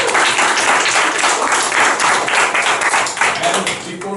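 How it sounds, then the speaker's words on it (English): Audience applause for an interpreter at the close of a forced labor conference presentation, a steady dense wash of clapping filling the whole stretch with no voices on top. "A round of applause for the interpreter once again"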